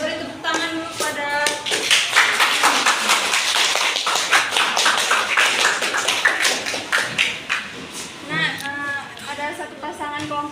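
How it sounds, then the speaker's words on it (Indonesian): A school class claps hands together in a classroom during a microteaching lesson, a lively round of clapping with voices and chatter mixed in throughout. "Saya beri tepuk tangan dulu"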